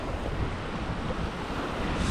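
Sea waves on the Thai coast make a steady broadband wash with wind noise over the microphone, continuous and fairly loud throughout without distinct breaks.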